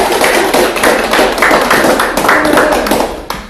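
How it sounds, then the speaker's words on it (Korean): Applause from an audience at a small business owners' association general meeting in Seongdong-gu, a dense, steady patter of many hands clapping close by for a few seconds before tapering slightly at the end. "그런 의미에서 지금 대표님한테 박수 좀 쳐드릴까요?"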